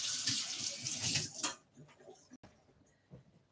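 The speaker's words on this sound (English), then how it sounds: "let me rinse my hands" Hands rinsed under a running kitchen tap while baking: a loud gush of water for about a second and a half, then it cuts off, leaving faint small clinks and rustles.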